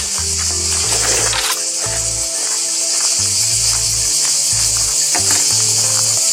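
Cicadas sing in a loud, unbroken high-pitched buzzing chorus, close by and filling the air, with low intermittent rumbles underneath.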